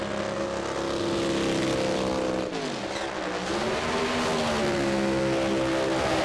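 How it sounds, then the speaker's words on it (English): A supercharged Pro Mod Camaro drag car does a burnout in the far lane at a British Drag Racing Championship round: a loud, sustained engine roar whose pitch dips, then climbs again, with no talk over it. "the glorious sound of a supercharged Pro Mod doing a burnout far lane"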